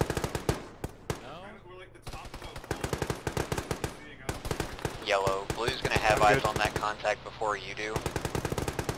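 Bursts of machine gun fire ring out in an ArmA tactical shooter match, with rapid sharp reports in long strings and some nearby and distant shots, while players talk over radio throughout.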